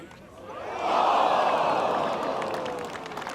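A large golf gallery at Royal Portrush during the final round of The Open groans together after a missed putt on the 17th, a swelling collective murmur that rises quickly and holds before fading slightly.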